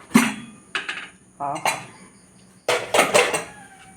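Pressure cooker of aviyal opened in a kitchen, several sharp metallic clanks and clinks of the lid and pot in separate bursts, close and loud, one with a short ringing tone.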